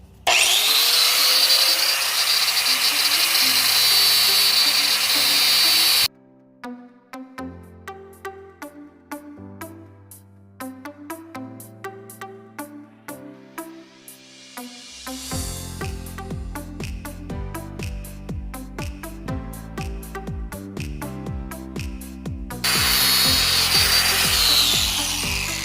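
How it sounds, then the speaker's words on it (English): A grinder flattens a part from an Acura RL big brake kit, with loud harsh grinding bursts at the start and end and a long quieter stretch of tonal music between them. "make it flat, and using the grinder thing, and it'll be loud."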